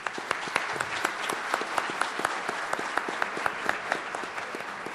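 An audience at a justice gathering applauds steadily with rhythmic, evenly spaced claps of moderate loudness, alone with no talking.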